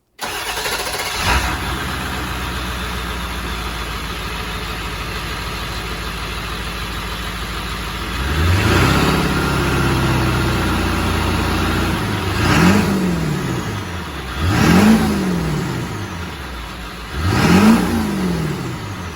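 A 1998 Ford E-350 van with a 7.3 diesel cranks and fires, settles into a steady rumbling idle, then gets several sharp revs that rise and fall back, loud and close with no talking.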